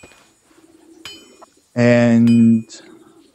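A single pigeon coo from a pigeon coop in the medieval game Kingdom Come: Deliverance, a loud, harmonic call lasting under a second. A faint click and quiet background ambience come before and after it.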